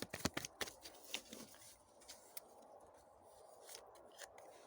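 Tarot cards being drawn and handled produce a quick flurry of crisp card flicks and slides at the start, then sparser soft snaps, close and quiet.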